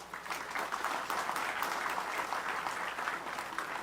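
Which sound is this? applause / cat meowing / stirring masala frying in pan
applause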